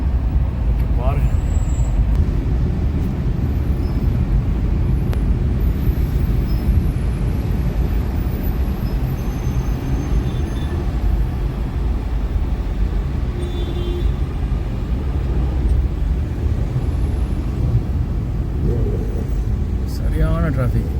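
Heavy, slow road traffic heard from inside a vehicle, a constant low rumble of engines with occasional air brake hiss, loud and unbroken while someone talks over it.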